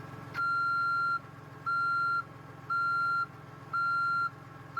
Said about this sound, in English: Also, it has the super work trucky reverse beep,